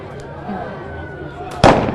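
Single shotgun blast fired to mark the finish of the Leadville Trail 100 mountain bike race, a sharp loud bang near the end over a murmuring crowd.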